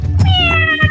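A single cat meows clearly and close up, one short tonal call with a rising then falling pitch, heard alone without talk.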